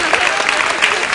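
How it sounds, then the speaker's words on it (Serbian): A TV studio audience on a Serbian talk show breaks into a short burst of lively applause, loud and close. Voices mingle with the clapping. "još jedan aplauz"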